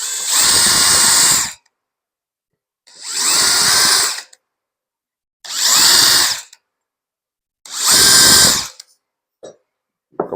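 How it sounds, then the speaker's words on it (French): A power drill with a quarter-inch bit marks holes in a piece of aluminium, running in four loud, separate bursts of about a second and a half each, with brief clicks and handling noise at the end. "avec une mèche un quart, je vais venir juste marquer mes trous dans mon morceau d'aluminium"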